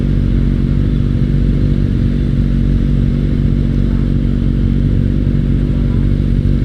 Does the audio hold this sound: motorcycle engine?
yes